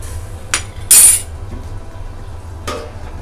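A metal lid is set onto a cooking pot of wet rajma pod and potato curry simmering in water. One bright clank lands near the middle, with a lighter clink before it and another after it, over a steady low hum.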